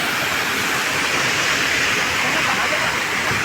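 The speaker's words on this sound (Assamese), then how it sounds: "এইটো ৱাটাৰফলটো এইটো ঝৰ্ণাটো" A waterfall in Cherrapunji, Meghalaya, roars as a constant, dense wash of falling water that stays steady and loud from start to finish.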